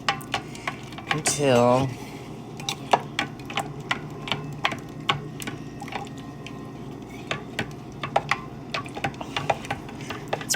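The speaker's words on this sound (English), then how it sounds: "I'm going to take my wooden spoon and just stir it up" A wooden spoon stirs magnesium flakes into liquid, giving a steady run of light, irregular taps and clicks with soft sloshing. A brief rising voice-like tone sounds early, and a word is spoken faintly.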